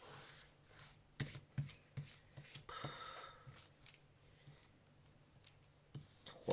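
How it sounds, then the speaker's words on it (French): Tarot cards being spread across a surface and drawn one by one, soft close rustling and sliding with a few sharper taps, quiet and without talk. "Et étaler les cartes et prendre 5 cartes."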